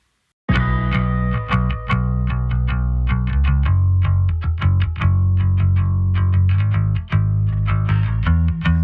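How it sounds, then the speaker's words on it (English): Electric bass line run through a Slate Heatwave distortion plugin, a plucked, rhythmic riff with gritty, crisp upper overtones, loud and up front with no voices. "just adds that little bit of crispy top end that just kind of pulls the bass out"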